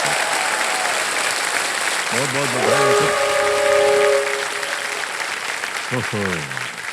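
Studio audience on the game show Kaun Banega Crorepati season 17 claps loudly and continuously. A host speaks briefly over the applause, which stays dense and steady throughout.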